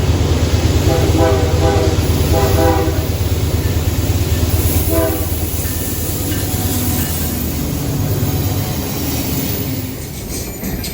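A passing train on a railway near the Appalachian Trail sounds a loud, close horn in several repeated blasts over a steady heavy rumble of rolling rail cars, with the roar lasting throughout.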